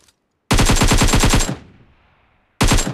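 Automatic weapon fire in the mobile battle royale PUBG Mobile on the Sanhok map: a loud, rapid burst of about a second with a short decaying tail, then a second burst starting near the end.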